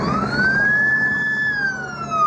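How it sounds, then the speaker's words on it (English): Multiple emergency vehicle sirens wailing loudly as they speed past near a fishing pier in the early morning, a steady rising and falling tone over rumbling traffic with no talk. "A viewer capturing multiple lights and sirens whizzing by"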